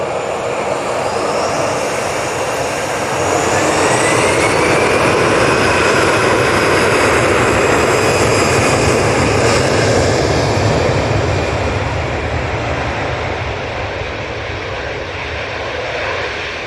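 Airbus A320-200 jet airliner at Manchester Airport on a foggy Monday morning, its engines producing a loud, steady roar that swells and holds for the whole stretch with a faint rising whine on top, no voices.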